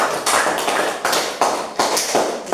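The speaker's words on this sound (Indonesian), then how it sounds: "kita beri aplaus kepada kelompok" A group in a classroom claps for a presenting team, producing sharp, rhythmic claps about three per second for a few seconds.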